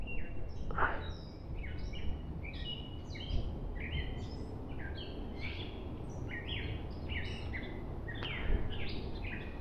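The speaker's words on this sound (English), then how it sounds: "it says gray catbird" A gray catbird calls in a state forest in New England, giving repeated short, varied chirps and mews at moderate distance over soft ambient background, with no talking.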